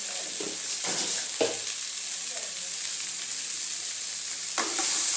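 Potatoes and chickpeas fry with spices over a medium flame in a pan for aloo chhola sabzi, making a continuous soft sizzle with a few sharp scrapes of stirring near the start and end.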